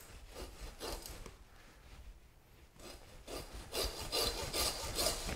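A hand saw cuts through a deer skull between the eye orbits, with rhythmic rasping back-and-forth strokes, close and fairly loud, pausing briefly midway before resuming with stronger strokes.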